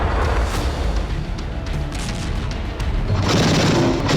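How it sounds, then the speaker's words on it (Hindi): Several loud bomblet blasts burst over a residential area in northeastern Ukraine, a dense run of booming detonations with crackling bursts, overlapping and continuous, growing heavier toward the end. "उत्तर पूर्वी यूक्रेन में आसमान से अचानक ऐसे ही बॉम्बलेट्स की बरसात हुई और एक साथ कई धमाके हुए।"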